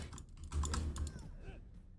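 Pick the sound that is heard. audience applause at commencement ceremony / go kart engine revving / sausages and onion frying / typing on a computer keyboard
typing on a computer keyboard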